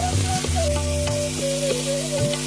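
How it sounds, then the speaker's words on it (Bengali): Mango pieces for pickle fry in oil in a wok, a continuous close sizzle with occasional stirring scrapes and a faint whistling tone above it. "আমি এইগুলো আমগুলোকে ভাজতে থাকলাম আর পাঁচ মিনিট মতন পাঁচ থেকে সাত মিনিট ভাজবো"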